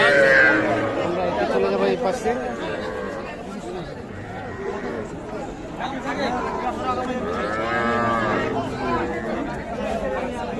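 Busy crowd chatter at a cattle market, with cattle lowing now and then among the steady babble of voices; young bulls, heifers and calves are for sale.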